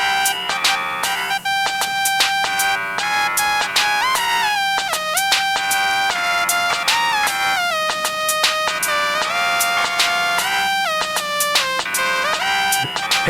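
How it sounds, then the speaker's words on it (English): Phone ringtone playing a gangster rap rendition of the traditional Jewish song Oh Say Shalom, a loud, bright synthesized melody with steady repeated beats and no talking over it. "let me play for you the gangster rap rendition ringtone of Oh Say Shalom, the traditional Jewish song."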